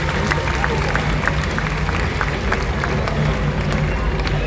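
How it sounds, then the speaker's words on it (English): Audience applause at a birds of prey show in an outdoor amphitheatre, sustained clapping from a large crowd with crowd murmur, fairly loud and close. "Big round of applause."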